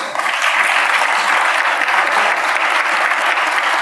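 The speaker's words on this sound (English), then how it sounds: "Let's give them applause, folks." Audience applause for the panelists at the close of an infrastructure panel discussion, a dense, steady wash of many hands clapping that holds loud and even from start to finish with no talk over it.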